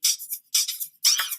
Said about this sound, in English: That's the sound of the regular drum loop.